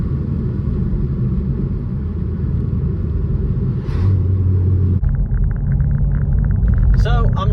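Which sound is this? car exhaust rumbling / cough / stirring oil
car exhaust rumbling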